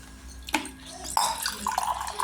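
Water splashes and runs from a tap into a sink, with clinks and sloshes of washing close by.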